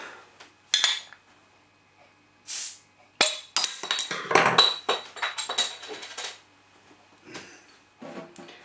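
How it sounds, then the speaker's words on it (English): Metal and glass clink and rattle in short bursts, with a brief hiss, as a bottle of Coronado Brewing Islander IPA is opened close by in a quiet room. "Right, let's get this beer opened up."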